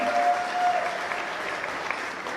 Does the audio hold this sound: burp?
no